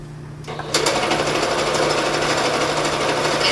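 A sewing machine starts up and runs in a continuous, fast, close whir while stitching a dart on a maroon dress, holding steady to the end with no talk over it.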